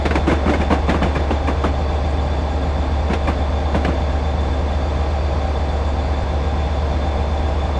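A train runs through a station with the locomotive brake applied, giving a loud, steady rumble and rolling roar, with clicking wheel beats over rail joints early on and no voices.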